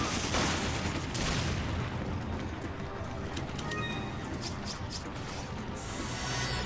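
Gunfire at zombies in Resident Evil 5 Mercenaries mode, a dense, loud wash of game shots and clatter that runs the whole stretch, with sharper bursts cracking through toward the end.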